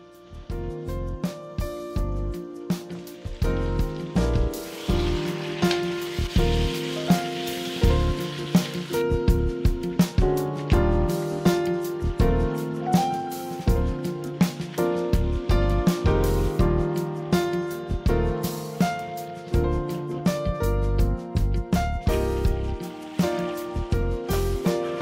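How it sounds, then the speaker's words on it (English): Potatoes and vegetables for a Kenyan goat dry fry with peppers cook in a pan over very low heat, giving a steady, dense crackle and patter like rain on a surface, with frequent small pops throughout, close and continuous. "All we need to do is just to cook the vegetables, the potatoes."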